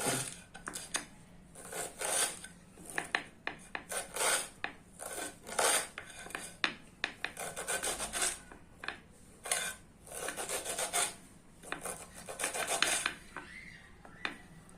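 A knife chops a wild leafy vegetable finely on a board in a home kitchen, giving a rapid, uneven run of close, crisp strokes and scraping rasps in short bursts, with no talking.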